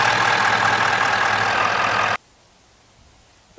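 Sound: Ford F250 6.7 liter V8 engine idling

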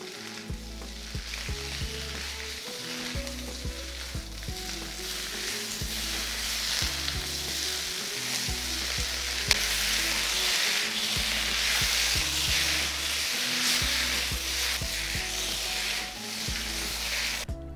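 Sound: stir frying vegetables with pork belly in a wok

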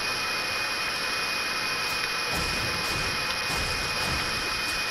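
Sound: helicopter in a video game

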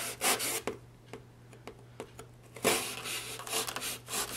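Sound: cutting a hole in a cardboard shadow box

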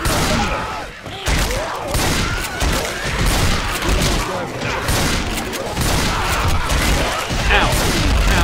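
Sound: grenade launcher fired in Left 4 Dead 2 video game

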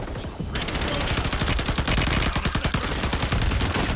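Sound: gunfire in Warzone video game

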